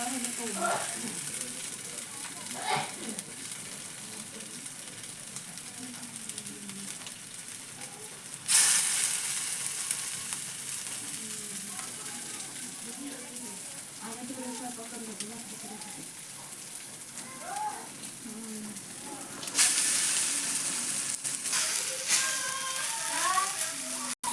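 Hand-pressed round chicken tikki patties fry on a hot iron tawa with oil, giving a continuous close sizzle and crackle, with a person talking over it.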